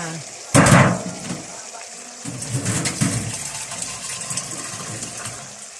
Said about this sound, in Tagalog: Lalagyan ko kaunting tubig